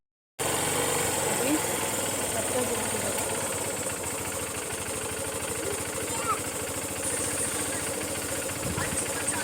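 A motorcycle engine idles steadily nearby, a continuous chugging rumble throughout with faint voices in the background.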